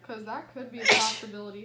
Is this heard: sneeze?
yes